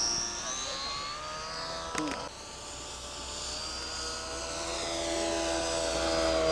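An electric scale model airplane dives down for a flyby at a scale aircraft rally, its motor giving a steady whine whose pitch slowly shifts and grows louder toward the end, with voices faintly underneath.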